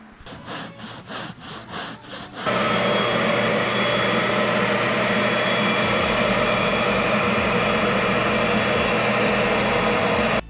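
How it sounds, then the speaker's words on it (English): A vacuum cleaner running on car seats during a budget dirt race CRX project, first a few rhythmic pulses, then a loud, steady, continuous roar close by that carries on to the end with no talk. "So I'm going to run this vacuum a bit."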